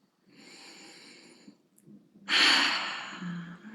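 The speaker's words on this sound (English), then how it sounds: "Let's take a couple really deep breaths" One deep breath, close to the microphone: a soft drawn-in inhale is followed by a loud, long, airy exhale that trails off.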